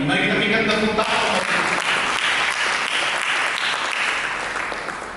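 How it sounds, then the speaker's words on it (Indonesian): A church congregation at an Indonesian service breaks into loud, sustained applause that fades gradually toward the end. "Mari kita berikan tepuk tangan."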